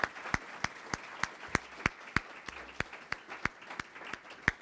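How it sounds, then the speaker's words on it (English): Sparse, separated hand claps from an audience at an evening community program honoring three women performers, a steady run of sharp individual claps rather than a dense roar, moderately distant in a hall. "give all three of these ladies another round of applause."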